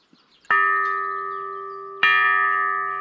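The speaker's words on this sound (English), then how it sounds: "I suspect the holes are drilled into it to give it that special chime." Two bright metallic chime strikes about a second and a half apart, each ringing out clearly with a long, slowly fading bell-like tone.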